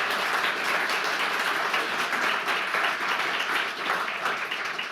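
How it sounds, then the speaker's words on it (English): An audience at a talk on masculinity claps in a dense, continuous burst that stays at an even level for about five seconds. "So let's give them a round of applause."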